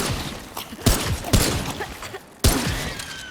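Gunfire in the video game Remnant II, a few sharp separate shots spaced about a second apart with a short burst between them, each shot loud and cracking and trailing off before the next.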